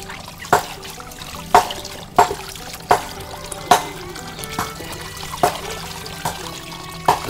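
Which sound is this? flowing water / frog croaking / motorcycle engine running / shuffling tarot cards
flowing water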